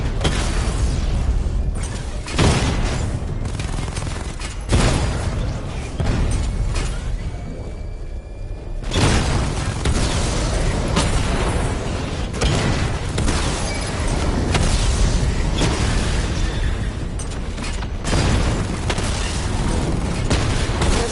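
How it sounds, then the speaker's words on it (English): The Batmobile's secondary weapon barrage fires in Batman: Arkham Knight, with loud dense bursts of booming explosions and rapid mechanical fire that run almost continuously and break off briefly around the middle. "Power up the secondary weapon to level 2 before firing."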